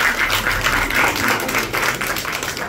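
A church feast crowd applauds in thanks to the priests, a steady wash of many hands clapping together, fairly loud and continuous throughout with no voices over it.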